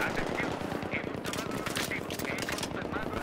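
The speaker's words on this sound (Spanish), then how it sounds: "¿Quién está disparándome?" Automatic weapon fire in Battlefield 3, rapid continuous bursts running throughout, close and loud with a dense crackling texture.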